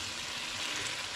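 Prawns frying in ghee for a Mangalorean prawns ghee roast, giving a steady, dense sizzle that holds evenly throughout with no pauses or talk.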